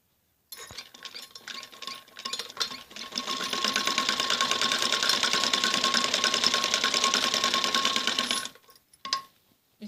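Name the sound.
sewing machine stitching a kameez jacket neck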